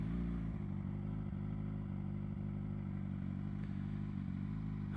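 Suzuki GSX-R 600 being ridden, a steady low engine drone at cruising speed with a constant rumbling hum and wind noise, heard up close and without speech.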